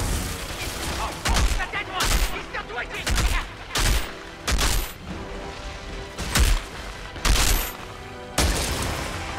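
Heavy gunfire from snipers in the video game Outriders Worldslayer: loud, repeated bursts of shots with short gaps between them, recurring steadily over several seconds.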